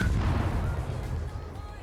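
Deep, booming warship gun salvos in the World of Warships game, heard as one sustained low rumbling roar that fades slowly with no talk over it.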